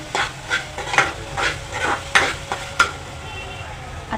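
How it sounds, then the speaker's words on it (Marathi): Tomato sautéing in spices in a pan for baingan bharta, with repeated scraping stirs of a spoon against the pan every half second or so over a soft sizzle. "हा टोमॅटो मसाल्यांमध्ये छान परतून घ्या"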